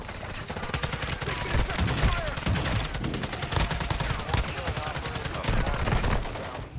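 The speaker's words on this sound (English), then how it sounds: "Taking effective fire!" Dense, sustained automatic gunfire and overlapping shots from a Call of Duty DMZ firefight roar without pause for the whole stretch, loud and close with layered bursts.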